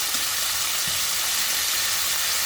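Beef sizzles and sears steadily in a hot pan for beef fried rice, a close, even hiss with no pauses.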